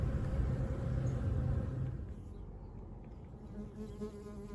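Bees buzz among flowers in a restored spring canopy, a dense steady drone that is louder at first and then eases into a softer, continuous hum.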